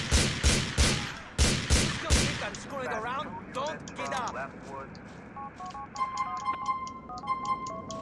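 Gunfire in the game GTA IV: several loud, close shots ring out in quick succession, followed by quieter game effects and electronic beeping tones.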